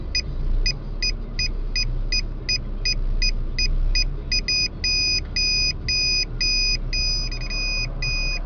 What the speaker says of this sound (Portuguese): Aqui o sensor de ré.